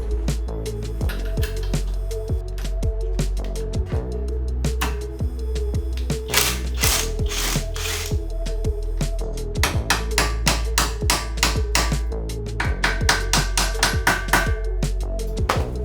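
A ratchet works close by as a brake duct and a lower arm link are removed from a Honda Civic Type R. Rapid clicking runs alternate with sharp metallic taps and clanks, and short steady stretches of ratcheting recur throughout.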